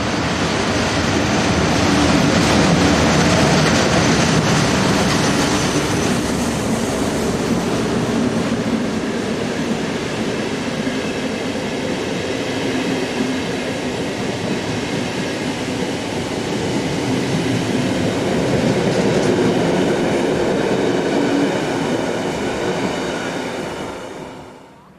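A Swiss RE 4/4 electric locomotive, number 11207, pulls out of a station on a Biel to Zurich service, its loud, steady rumble and rail noise filling the scene before fading at the very end.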